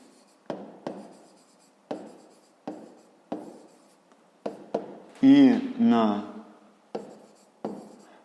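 A pen writes on paper while working a fifth-grade math exercise: a steady run of short scratchy strokes recurring about every second, close up, with a brief louder rustle or scribble in the middle and no one speaking over it.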